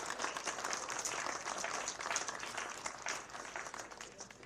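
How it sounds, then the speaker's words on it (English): Audience applause at an amateur golf championship at Pinehurst No. 2, a dense patter of many hands clapping outdoors, steady and moderately loud before gradually thinning toward the end. "Let's give these two gentlemen a round of applause for their incredible play this week."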